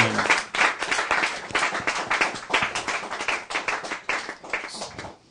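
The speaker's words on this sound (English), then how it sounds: "So please give one more big round of applause to them." An audience applauds at a talk on raising Krishna conscious children, dense steady clapping filling the room for about five seconds, close and loud with no talk over it.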